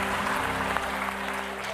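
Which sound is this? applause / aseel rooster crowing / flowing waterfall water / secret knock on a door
applause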